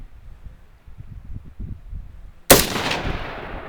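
A single gunshot at a bottle target at an outdoor shooting spot, a sharp loud crack followed by a rolling echo that fades out, preceded by quiet low rumble.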